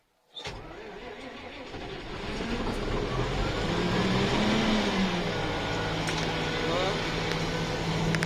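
An old XTA-200 tractor engine, left standing for three months over winter, cranks and fires up after a brief silence, then settles into a loud, steady rough idle that builds and holds close by, with faint voices in the background.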